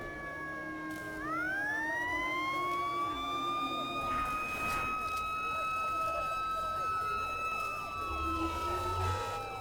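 Wailing emergency sirens rise and sweep in long tones over a steady background rumble, loud and continuous throughout.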